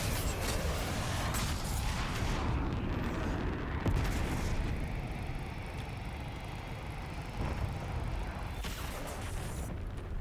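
Hellstorm missile strikes in the Black Ops 7 video game, a continuous rumbling barrage of booming explosions with sharp cracks near four and nine seconds, dense and loud throughout, no voices.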